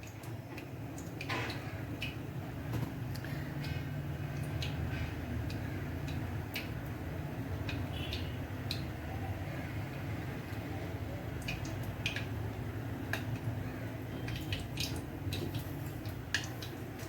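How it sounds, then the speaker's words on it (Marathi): Mustard seeds crackling in hot oil in a pot, scattered small pops and ticks at irregular intervals over a low steady hiss, fairly quiet and close. "आपली मोहरी तडतडायला सुरुवात झालेली आहे."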